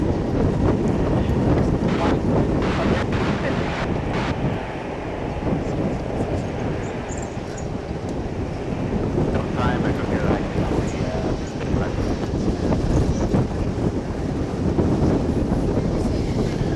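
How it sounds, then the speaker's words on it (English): Relentless wind blowing at DFW Airport, a loud, continuous broadband roar buffeting the microphone with slight surges throughout. "The wind is relentless."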